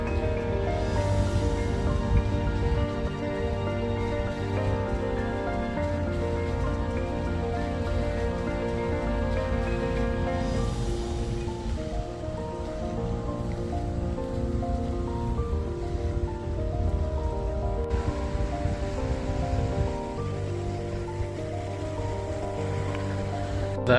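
Steady, continuous rushing and splashing of falling water from a large fountain display beside a theatre in Brno, broad and constant, with faint tonal music or hum running underneath.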